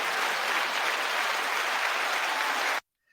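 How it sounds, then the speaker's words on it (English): Audience applauds to welcome a speaker onto the stage, steady dense clapping that cuts off abruptly into silence near the end. "You didn't know you were getting applause"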